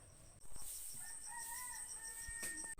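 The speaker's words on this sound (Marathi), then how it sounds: "आता आहे का मी कोंबड्या दाखवते तुम्हाला" A rooster crows among chickens in a home yard, a faint, drawn-out call heard alone over quiet background hiss and insect-like chirping.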